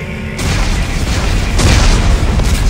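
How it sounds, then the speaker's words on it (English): Explosives detonate in the Dead Space 3 video game: a sudden, loud, sustained boom kicks in after a brief quiet moment and rolls on as heavy rumbling with a second swell near the end. "Warning. Detonation detected."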